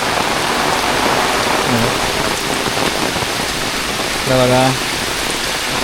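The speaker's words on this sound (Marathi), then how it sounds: "पावसाला जोरदार सुरुवात झाली बघा" Heavy evening rain falls steadily in a Konkan village, a loud, even hiss throughout, with brief bits of a voice speaking over it near the middle and toward the end.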